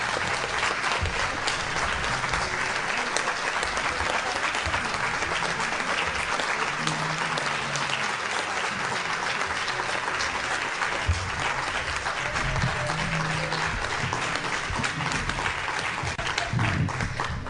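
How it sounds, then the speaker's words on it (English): At a luncheon, the audience applauds the speakers with sustained, loud clapping from a large crowd that holds steady and unbroken for well over fifteen seconds, with occasional faint voices underneath. "let's give our speakers, Alyssa and Chris, one more round of applause"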